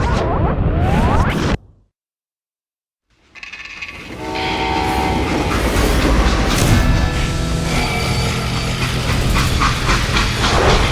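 A train running on rails in the western game Call of Juarez Gunslinger: a loud rumble with horn-like tones, then a sudden silence of about a second, then a steady rolling clatter with ringing metallic tones.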